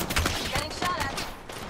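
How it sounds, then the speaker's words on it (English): Gunfire in a PC battle royale shooter: rapid cracking shots in quick uneven bursts, fairly close and sharp, mixed with brief whining and ricochet-like tones. "Getting shot at."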